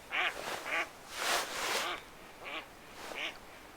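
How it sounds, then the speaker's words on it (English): Ducks quack about half a dozen times in short nasal calls, some overlapping, moderately close and heard on their own without talk. "Ducks are always nice."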